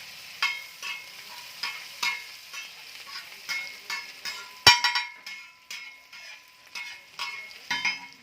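Onions frying in mustard oil in a pan, with a faint sizzle beneath a series of distinct metallic scrapes and clinks from stirring, roughly one every half second, close by and without speech.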